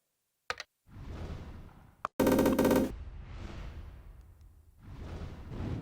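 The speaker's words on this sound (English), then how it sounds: "Your creatures are fighting amongst themselves." Creatures brawling among themselves in Dungeon Keeper: a burst of rapid staccato hits and a dense rattling clash, set between swelling whooshing sweeps of game sound.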